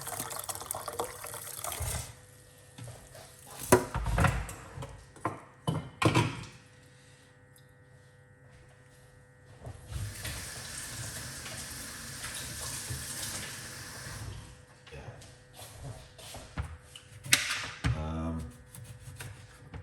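Hot water runs and splashes steadily into a container, with a few clunks and pauses in the pour; the flow is close and fairly loud.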